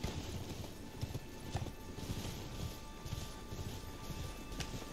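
Horse hooves clip-clop steadily in the video game Elden Ring, a continuous rhythmic trotting of moderate loudness with no talk over it.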